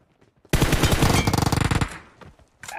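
Gunfire from an M24 sniper rifle in a mobile shooter game, a sudden loud blast opening into a dense, rattling burst of rapid shots that tails off, with no voices.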